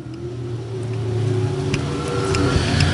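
Dirt track race cars roar around I-35 Speedway, a sustained engine drone with a rising pitch as the field works through the turns, fairly close and building louder toward the end.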